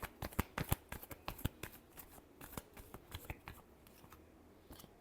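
Tarot cards shuffled by hand, a quick run of crisp, close riffling snaps and soft slaps that thin out into scattered taps, all faint and without talk.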